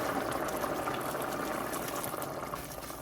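Water simmering in a pot while cooking, a steady bubbling hiss that stays fairly even and close for the whole stretch with no talk.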